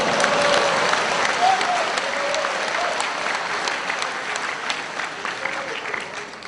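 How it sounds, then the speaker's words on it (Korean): A lecture audience at a health talk on adult diseases claps steadily, a dense sustained applause from start to finish that eases slightly toward the end. "그래서 박수 왜 안 쳐요?"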